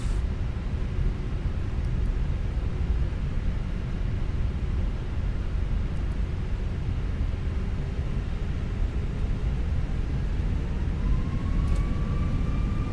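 An SAS Airbus A319's engines at takeoff thrust in the MSFS2020 flight simulator, a steady loud broadband roar with a faint rising whine near the end.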